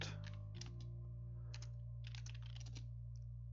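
Quick keystrokes on a computer keyboard, close and quiet, come in short clusters with brief pauses over a steady low electrical hum.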